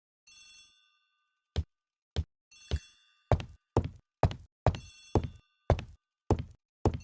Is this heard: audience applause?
no